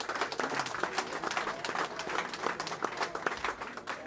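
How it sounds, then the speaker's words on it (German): Handball fans in a sports hall applauding at a post-match press conference, steady, moderately distant clapping that continues throughout. "Applaus von den Weidener Fans."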